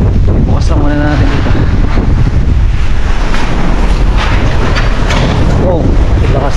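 Strong typhoon wind roars loud and constant against the microphone, with water surging in the background and people talking briefly under it.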